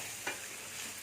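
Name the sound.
stirring channa dal gravy in a pan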